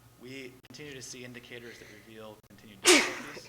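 A single sharp sneeze bursts out during a city commission meeting, loud and close, right after a stretch of steady formal speech from the presenter.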